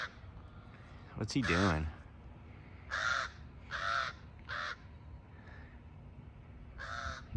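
Several loud, harsh crow caws ring out nearby in separate bursts, with a brief spoken question and a rising whistle-like sound early on, over quiet background.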